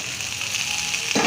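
Hot oil sizzles steadily in a pan as kabuli chickpeas go in with boiled potato for a spicy Bengali chana masala, a bright hiss that rises briefly at the end.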